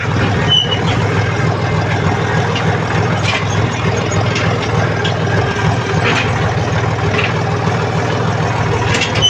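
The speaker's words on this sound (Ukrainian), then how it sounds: "Зараз під'їду трактором і будемо грузити тюки." A Dongfeng 244 DHX tractor engine runs steadily at close range, a loud continuous low rumble with no breaks during farm work loading hay bales.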